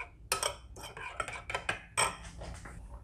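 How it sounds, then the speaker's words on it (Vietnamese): A utensil stirs a marinade mixture for pan-roasted pork ribs, making a run of sharp clinks and scrapes against the container in quick irregular bursts, close up. "Chúng ta trộn cho cái hỗn hợp này nó thật là đều"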